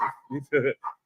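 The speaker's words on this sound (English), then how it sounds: "Sorry about the dog in the back, man." A dog in the background gives a quick run of short, close barks and yips, about four bursts in one second.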